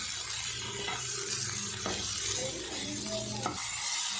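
Tomatoes are stirred with a little salt as they fry in a pan for tomato chutney. A soft sizzle runs throughout while a spatula makes several scraping sweeps at close range, and no one speaks.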